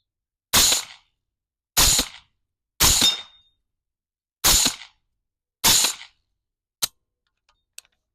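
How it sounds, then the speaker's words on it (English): Five suppressed rifle shots from full-power centerfire ammunition through a Silencer Co Omega 300 30-caliber can, evenly spaced sharp cracks about a second apart, followed by a couple of small metallic clicks, with no talking. "Let's see how it handles full power centerfire ammunition."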